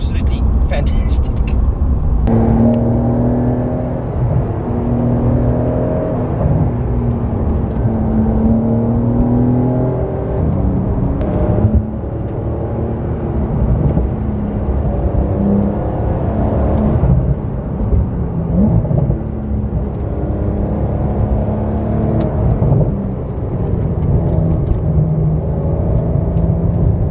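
Engine of a new Porsche 911 pulling hard at speed, a steady loud drone that climbs and drops in pitch through gear changes for the whole stretch, with road and wind roar underneath.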